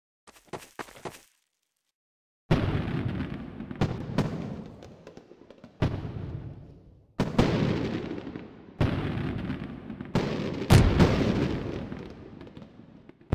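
Booming fireworks bursts in a game server's Fourth of July show, a series of loud explosions each trailing into crackling decay, roughly every second or two, with no talking.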